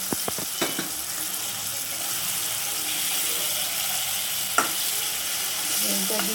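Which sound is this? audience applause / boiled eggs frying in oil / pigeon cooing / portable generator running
boiled eggs frying in oil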